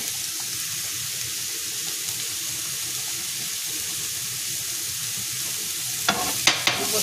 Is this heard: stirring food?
yes